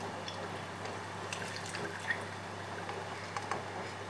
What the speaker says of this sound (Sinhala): අපි දැන් තම්බගත්ත මස් වතුර ටික මේ භාජනයට මේ විදිහට පෙරාගමු.